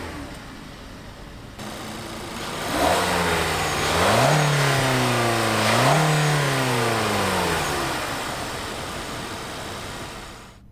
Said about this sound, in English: So let's hear the engine and see how that sounds.